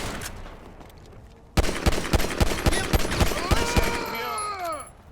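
Gunfire in Grand Theft Auto 5, a rapid string of sharp shots in a steady rhythm that starts abruptly, loud and near, with game voices shouting over it.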